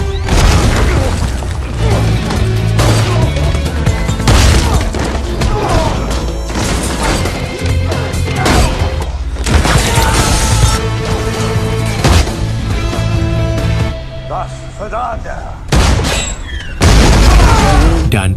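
Action-film gunfire and bomb blasts boom and crash in loud, dense bursts as enemies are shot, with heavy thuds stacking over each other almost continuously.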